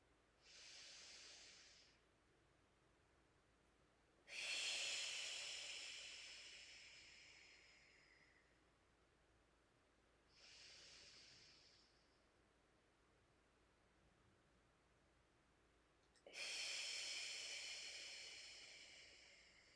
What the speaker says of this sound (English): Inhale through the nose, hold the breath, and exhale through the mouth.